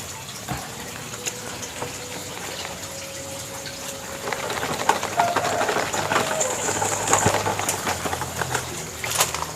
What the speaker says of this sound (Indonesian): tambahin sedikit airnya